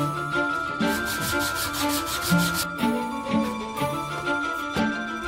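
Rhythmic rubbing strokes of sanding on antique wooden furniture under restoration, smoothing filled scratches, repeating back and forth at a steady pace, close up, with faint tinkling in the background.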